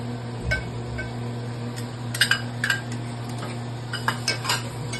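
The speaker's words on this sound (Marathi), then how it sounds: "हे साहित्य टाकून चांगलं परतून घ्या त्याला" Semolina being sautéed with cashews, almonds and banana for prasad shira, a spoon clinking and scraping against the pan in sparse, sharp taps over a low steady hum.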